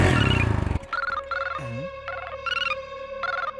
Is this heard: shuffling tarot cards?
no